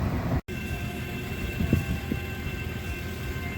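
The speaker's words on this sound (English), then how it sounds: "here we are waiting for the GO train" A GO commuter train rumbles past in a steady, fairly loud drone with wind noise, briefly cut by a dropout near the start.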